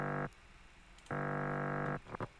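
Future bass supersaw synth chord run through distortion and played alone: two loud sustained bright stabs split by a short gap, then a couple of quick short hits at the end.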